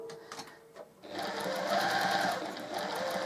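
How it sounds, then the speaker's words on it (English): A sewing machine runs a few reverse stitches into a quilt seam during a repair, a brief soft tap then a steady close mechanical whir with fine rapid ticking, without talk. "Just going to reverse a few stitches back into the seam."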